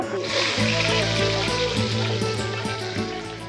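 Chopped onion hits hot oil with whole cumin seeds, giving a steady, close sizzle and crackle with occasional stirring clinks, continuous for the whole stretch.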